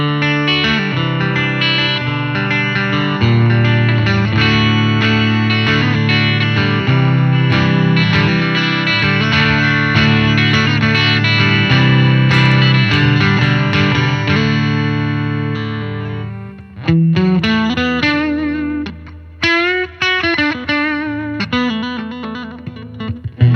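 Electric guitar played through an Aclam Go Rocky pedal set to crunch mode, a loud, steady overdriven chord passage with sustained harmonics that breaks into choppier, staccato picking near the end.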